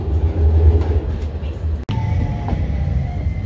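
Train ride: steady low rumble and rattle of a rail car in motion, loud and continuous, with a brief dropout near the middle and faint squeal-like tones afterward, no talking.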